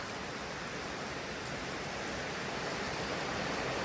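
Heavy rain pours down in a rural Thai village during the rocket festival, a dense, steady, broadband hiss that stays even throughout with no other sounds.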